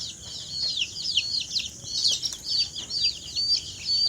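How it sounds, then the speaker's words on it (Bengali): Young chickens in a coop for egg-laying native hens, giving a busy chorus of high chirps and soft clucks, many birds overlapping continuously at close range with no speech. "মোরগ মুরগি যা খুশি হোক"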